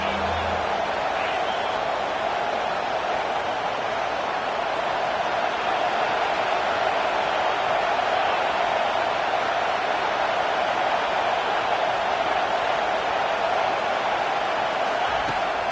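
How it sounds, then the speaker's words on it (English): A football stadium crowd roars steadily on third down, a dense, sustained wash of cheering that holds loud and even throughout without breaks. "Decibels rising as the crowd gets behind this defense on 3rd down."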